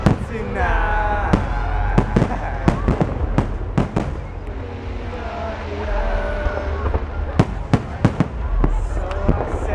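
Fourth of July 2012 fireworks show over the National Mall in Washington DC: repeated sharp bangs and crackling bursts over a dense roar of crowd noise and wind, with people cheering and shouting throughout.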